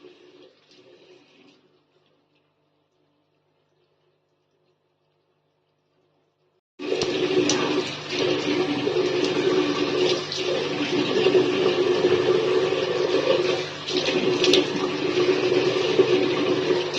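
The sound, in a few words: running water while washing the face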